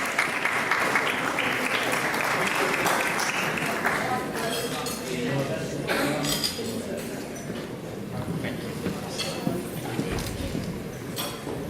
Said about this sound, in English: Let's give a round of applause to Assemblymember Kansan Chu and Ash Kalra.